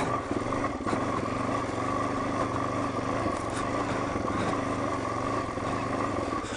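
A Suzuki DRZ motorcycle engine drones steadily and close while being ridden, a constant rough hum with faint clatter and no talking.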